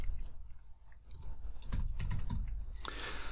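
Typing on a computer keyboard while filing imported camera images, a quick run of close clicking keystrokes in uneven bursts, with a denser flurry near the end.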